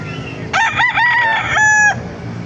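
A rooster crows once at a gamefowl market, a loud, close, drawn-out cock-a-doodle-doo lasting about a second and a half over faint background market noise.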